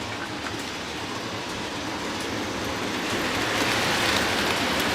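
Model trains roll along their track with a steady rumble, a continuous rattling clatter that grows slightly louder toward the end.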